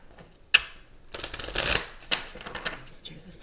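Tarot cards being handled and shuffled in a small deck, with a sharp snap followed by a run of close riffling and rustling bursts, some near-drops of cards.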